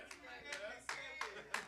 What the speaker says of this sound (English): I'll take that hand clap.